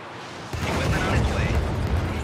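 Artillery barrage explosions in the video game Helldivers erupt after a brief quiet start, a dense rumbling roll of overlapping booms and bursts that continues loudly to the end.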